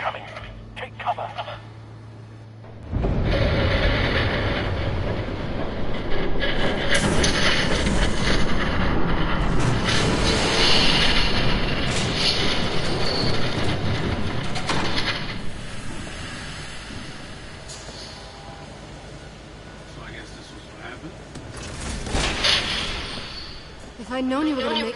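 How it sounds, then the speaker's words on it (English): A train roars past in the Telltale Batman game, a sudden loud rushing rumble that starts abruptly and holds for many seconds before easing off. "There's a train coming."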